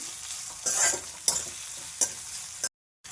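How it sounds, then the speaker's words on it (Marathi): Onion hits hot oil already fried with garlic and green chili, sizzling loudly while a spoon stirs in several distinct scraping strokes, ending abruptly. "आता यात कांदा टाकू कांदा पण छान परतून घेऊ"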